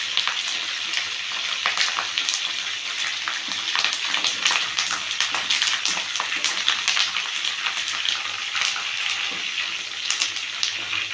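Chicken legs fry in oil with a handful of curry leaves for chicken 65, a dense, bubbling crackle that spits and pops steadily throughout at close range.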